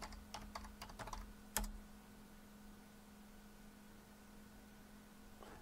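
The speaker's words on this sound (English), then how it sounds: "Put your password in." Computer keyboard typing a password into a terminal on a Raspberry Pi setup: a short burst of several quick, close keystrokes in the first second and a half, then only a steady low hum.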